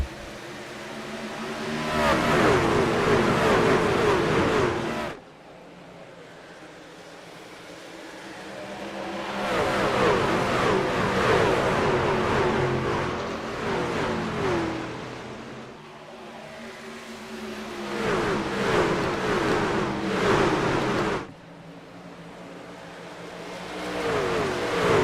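Race truck engines roaring on the Darlington oval in a racing video game, a loud sustained drone that swells and drops in repeated waves as trucks accelerate and pass, no talk.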